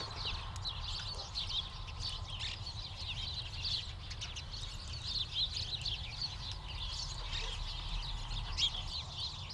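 Small bright green parakeets from a feral breeding colony in Chicago's Hyde Park, chattering and chirping in a steady high flurry of calls over low outdoor background rumble, with no voices.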